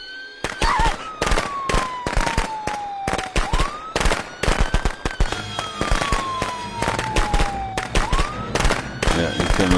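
Rapid gunfire aimed at Jason in the video game Friday the 13th, sharp dense cracks and bursts repeating across the whole stretch, loud and close, with game tones gliding underneath.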